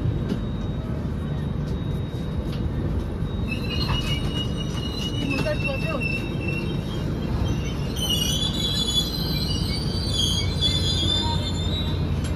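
Train 16594, bound from Parbhani to KSR Bengaluru, rolls slowly into platform 1 at Vikarabad Junction under a loud, constant rumble, with high wheel squeals rising midway and growing sharper near the end.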